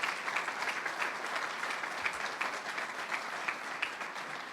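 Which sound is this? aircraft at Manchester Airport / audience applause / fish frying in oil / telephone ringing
audience applause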